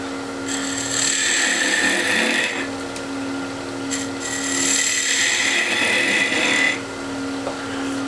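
A wooden chess piece turned on a lathe as a taper is cut, a steady motor hum with two rising bursts of scraping tool-on-wood noise separated by a brief pause.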